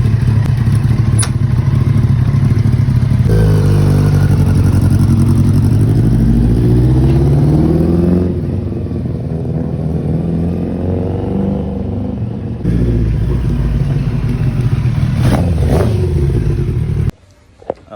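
A big bike motorcycle engine runs loud and close, idling with a steady rumble and rising and falling in pitch as the throttle is worked, then cutting off abruptly near the end.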